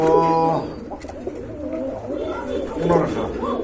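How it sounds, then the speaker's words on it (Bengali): Soft, repeated pigeon coos, close by, with a person talking over them. "চমৎকার এক জোড়া কবুতর"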